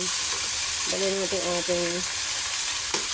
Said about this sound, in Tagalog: Palabasin natin ang kanyang mantika. Igisa natin na maayos.